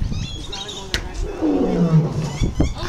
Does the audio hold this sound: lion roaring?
yes